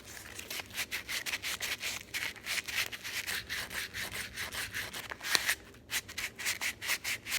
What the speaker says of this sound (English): So I think I'm just gonna sand it up and leave it as it is.